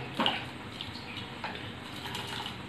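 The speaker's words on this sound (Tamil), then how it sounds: "அந்த குழம்பு மட்டும் அளவு வச்சு நம்ம தண்ணி ஊற்றணும்." Water poured into a pressure cooker over vegetable kurma, a short splashing gush at the start followed by a softer, steady trickling wash, close and modest in level.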